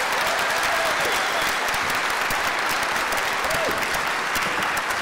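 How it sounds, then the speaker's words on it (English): A debate audience at the Great Agri-Food Debate semi-final in 2019 gives a sustained round of applause. Dense, even clapping fills the hall for the whole stretch. "Will you please give a round of applause to UCC?"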